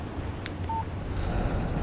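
A short phone text message alert in Alan Wake Remastered, a brief electronic beep standing out once over a steady dark game ambience, with no speech.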